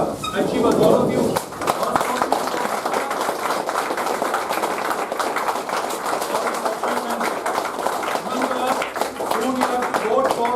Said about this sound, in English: May I request all of you to stand up for a moment and applaud each other